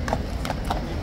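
Police horses' hooves clip-clop on pavement near the King's Guard at Horse Guards, a steady rhythm of sharp, close hoof strikes over a busy crowd murmur.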